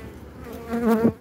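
Honey bees at an opened beehive, a short close buzzing drone that swells louder toward the end of a brief moment.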